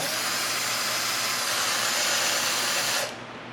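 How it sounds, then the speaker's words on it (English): A power drill bores anchor holes for epoxy, giving a loud, steady high-pitched whine that rises slightly before cutting off abruptly near the end, with no talking. "now that you got all the holes drilled"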